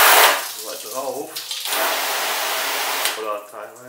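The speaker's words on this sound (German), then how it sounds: "Wir werden die Fläche jetzt mal abspülen." Garden hose rinsing water over a car surface treated with Soft 99 Fusso Coat, a steady rushing spray for over a second, with a voice talking before and after it.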